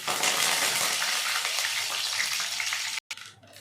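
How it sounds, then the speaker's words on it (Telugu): Mustard seeds, cumin and curry leaves frying in hot oil give a loud, dense, close crackling sizzle that holds steady, then cuts out abruptly near the end and returns faintly. "ఆవాలు వేగాయి."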